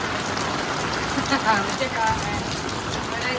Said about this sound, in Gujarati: વરસાદનો આનંદ લેવા કે કેવો વરસાદ પડે છે જોવા